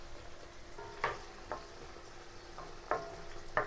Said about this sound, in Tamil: நல்லா வதங்கட்டுப்பா.